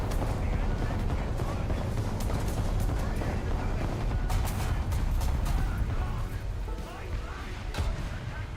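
Heavy tank cannon fire using HESH rounds in a video game: dense, booming blasts and rumbling explosions over a constant roar of battle noise, loud and sustained throughout.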